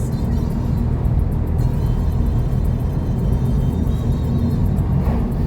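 A car passing on an old countryside road, a steady, loud rumbling drone that fills the whole stretch with no talk over it.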